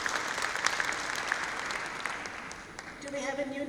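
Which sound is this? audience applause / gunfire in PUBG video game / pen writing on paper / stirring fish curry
audience applause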